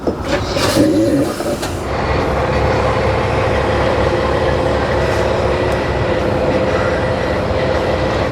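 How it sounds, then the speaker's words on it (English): A tractor drives forward while tire socks are being fitted, giving a loud, steady engine rumble with mechanical rattling that holds constant throughout. "We'll get in the tractor, move the tractor forward until that top is on the bottom."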